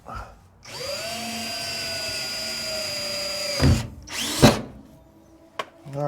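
A power drill with a dull bit bores a hole through a 1969 Ford F100 truck floor, a steady whine lasting about three seconds before winding down, followed by a couple of short bursts and clunks.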